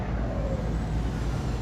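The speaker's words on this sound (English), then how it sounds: "I thought it might improve the engine noise within the cab, but it hasn't really." Truck engine droning inside the cab in Euro Truck Simulator 2, a steady low rumble with constant loudness and no talking.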